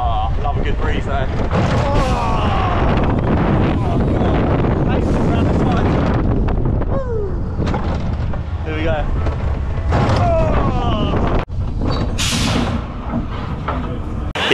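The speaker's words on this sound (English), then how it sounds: "Oh. Yeah, really windy." Strong wind buffeting the microphone in loud roaring gusts at a Hayling Island funfair, with people shouting and talking over the rumble.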